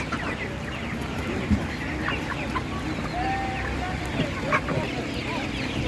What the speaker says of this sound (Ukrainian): Гарна така курка вона.